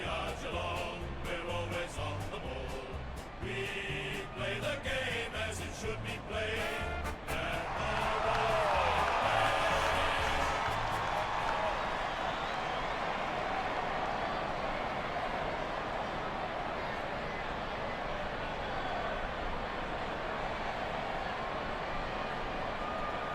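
Crowd in the AFL Evolution 2018 football video game cheering and applauding as the teams run on, a broad roar that swells and holds steady over a busy game soundtrack, with no talk over it.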